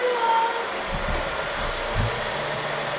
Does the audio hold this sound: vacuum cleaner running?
yes